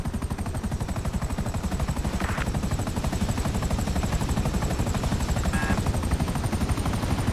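A helicopter in a video game, the SSD chopper, gives a loud steady rotor thrum with rapid rhythmic chopping throughout, near and constant, with a couple of brief higher chirps over it.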